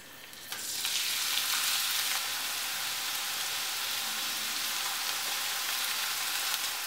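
Onion, ginger and green chili dropped into hot coconut oil in a kadai burst into a strong sizzle after a brief quiet start, then hold a loud, steady hiss with faint stirring.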